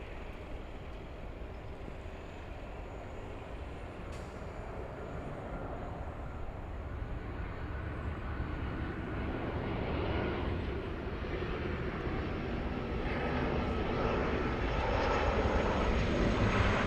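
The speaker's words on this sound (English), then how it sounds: "We have a 737 crossing right now the 405 freeway, so it's landing in a few seconds." A Boeing 737 arriving from Las Vegas descends over the 405 freeway toward landing at LAX, a broad distant jet roar that slowly swells louder over about seventeen seconds, no voices.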